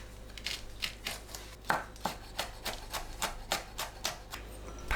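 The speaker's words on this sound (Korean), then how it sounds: "청양고추를 작게 썰어주세요." A knife chops small pieces of Cheongyang chili pepper on a cutting board in a steady run of about a dozen crisp, evenly spaced taps, close and moderately loud, with no talk.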